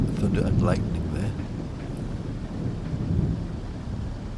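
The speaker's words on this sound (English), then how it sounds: "Some more thunder and lightning there." Rolling thunder with rain in a stormy Train Sim World 3 scene on the Trans-Pennine route, with a steady low rumble through the whole stretch. Someone talks over it throughout.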